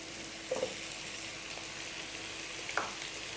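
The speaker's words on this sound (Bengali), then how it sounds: "এখন এগুলো আমি সুন্দর করে ভেজে নিব।" Tomatoes and spices, with bay leaves, frying in a pan for a Bengali prawn curry, giving a steady faint sizzle with a couple of brief stirring clinks near the start and end.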